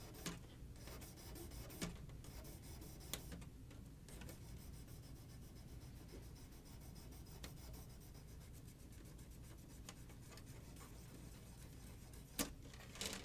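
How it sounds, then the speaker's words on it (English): Fine-grit sandpaper stick rubbing across a small plastic Gunpla model part, a steady soft rasping scrape that runs continuously at low volume, close by, with a few brief taps. "So I'm going to sand a little bit here."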